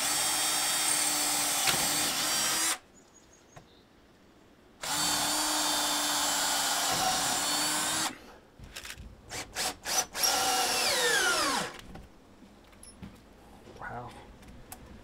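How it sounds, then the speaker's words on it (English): Power drill boring holes to fit a hinge shield, two long steady whining runs separated by a pause, then a stretch of clicks and handling before a final shorter burst, all close and loud. "And drill our holes."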